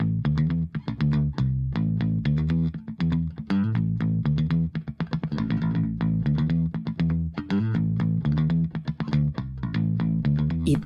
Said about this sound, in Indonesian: itu suara gitar bass.